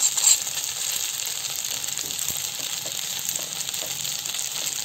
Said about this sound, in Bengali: ভালো করে শুকনো লঙ্কাগুলো চিপে চিপে যেন ভেতরটা ভালো করে রোস্ট হয়ে যায়